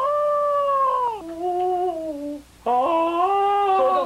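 A man imitates a dog howling in a breathy falsetto, holding long wavering high notes, breaking off briefly and then sliding back up into another sustained howl, close and clear with no other sound.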